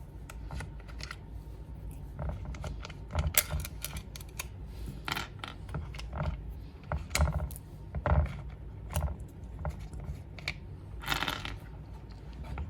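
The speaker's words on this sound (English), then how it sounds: "next up, T25 Torx. There's 1, 2, 3, 4, 5, 6, 7 screws we're gonna take out." Clicks, ratchets and scrapes of a T25 Torx driver backing out seven screws from the convertible top mechanism of a 1997-2004 Porsche Boxster, close and irregular, with no talk.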